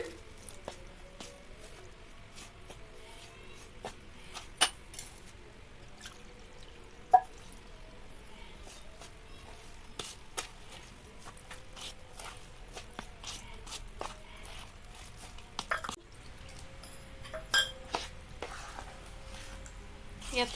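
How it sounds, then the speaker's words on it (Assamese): Dough for a homemade rice cake is worked by hand in a bowl with small additions of water, giving soft, close squishing and sticky patting sounds with occasional light clicks, quiet and irregular. "পানী দি মই অলপ অলপকৈ সানি ল'ম"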